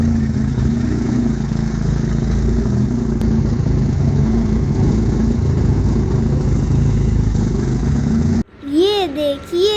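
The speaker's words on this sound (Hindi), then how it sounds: "ये है मोटरसाइकिल, जिसे हम हिंदी में भी मोटरसाइकिल ही कहते हैं।" A motorcycle engine drones loud and close in a steady, continuous run for about eight seconds, then cuts off abruptly and a voice follows.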